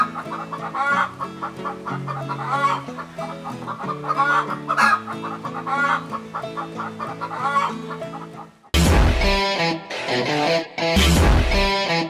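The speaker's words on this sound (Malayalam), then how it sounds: "കോഴി മുട്ട ഇട്ടുകൊണ്ടിരിക്കുന്നു. അതാണ് അവർ വിളിച്ചു പറഞ്ഞത്." A hen clucks loudly and repeatedly after laying an egg, in rhythmic bursts with sharper squawking calls toward the end, alone and close by.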